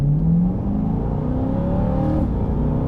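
A production C8 Corvette engine in Sport mode revs upward in one smooth rising sweep from a steady drone. It stays loud and continuous, with no talk over it.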